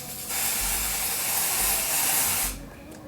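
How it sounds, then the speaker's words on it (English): Lace tint spray hisses onto a wig's lace in one sustained burst of about two seconds, a close, bright aerosol hiss that starts and stops cleanly against a quiet room. "I'm just gonna spray this on my lace."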